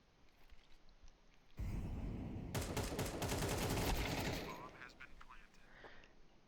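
A sudden burst of sustained automatic gunfire sprays in a first-person shooter, loud and continuous for a few seconds before fading, with quieter game sounds on either side.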